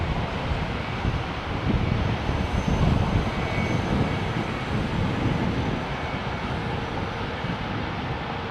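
Aircraft taxiing at London Heathrow Airport, a steady broadband engine roar mixed with wind noise, moderately loud and continuous with a slight swell in the middle.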